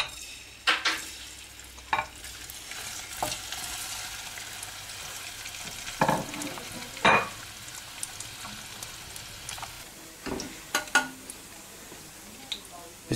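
Indian cottage cheese made from whole milk sizzles softly in a pan, a steady low frying hiss broken by occasional sharp clinks and scrapes of stirring.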